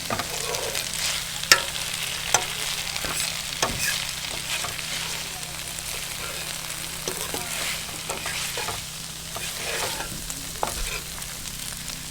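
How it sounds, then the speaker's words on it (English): Pasta with red sauce cooking in a pan on a one-burner camp stove on a remote outback trip: soft sizzling and scraping stirs with a few sharp utensil knocks against the pan, steady low stove hum beneath. "cooking pasta and a dish on a 1-burner stove"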